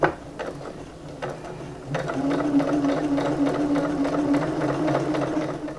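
A sewing machine stitches a gathered ruffle for an apron in reverse, running as a fast, even mechanical whir with rapid needle clatter, close and steady after a few brief starts.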